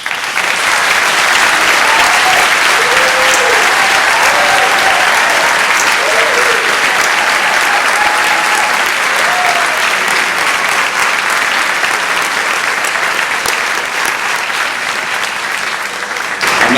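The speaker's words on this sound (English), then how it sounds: "A round of applause, please." Sustained audience applause fills a graduation ceremony for an 8th grade rising class, steady dense clapping from a large crowd lasting throughout without a break.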